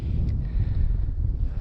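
Strong hurricane wind buffets the microphone on a frozen taiga lake at minus 37 degrees, with a low, rumbling roar that surges and dips throughout.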